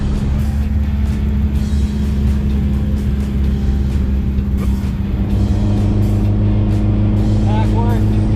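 A pink 1969 Volkswagen Beetle, back on the road after years off, drives with a steady low engine rumble and road noise throughout, a brief higher whine near the end, and talk over it.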